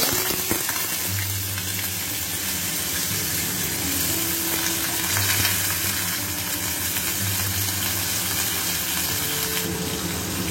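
Sliced potatoes, two large ones cut into long strips, frying in a pan of hot oil after the eggplant has browned, giving a steady, dense sizzle that runs throughout with light stirring and no talk.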